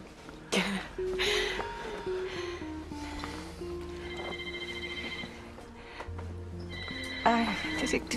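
A telephone rings indoors in repeated electronic bursts, with voices and throat clearing mixed in around the rings.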